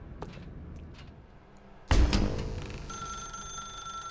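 In a video game, a thud in a dark room is followed by a telephone ringing with a steady bright bell tone, near and fairly loud, and it keeps sounding to the end.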